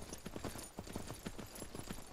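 Horse hooves clip-clopping at a steady walking rhythm in the online game Myth of Empires, a series of close, moderately loud hoofbeats with no talk over them.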